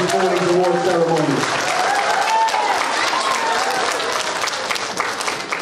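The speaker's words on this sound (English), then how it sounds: "give Mr. Young a big round of applause as well" Children and adults give a loud, sustained round of applause at an elementary school award ceremony, with a voice talking over the clapping at the start and cheering crowd noise throughout.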